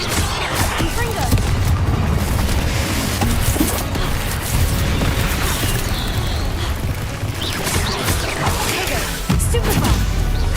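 Confringo fire-blast spells from Hogwarts Legacy erupt in dense, continuous booms and crashes through a busy combat mix, with a voice shouting spell names and other spells firing between them.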